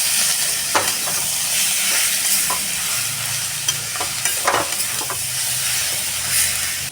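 Chicken mince curry sautés in a pan over low heat with a steady sizzling hiss and occasional scraping stirs, close and continuous throughout.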